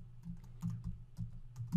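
Quick bursts of typing on a computer keyboard while a file name is entered, a dozen or so light, close key clicks in an uneven rhythm with no talking.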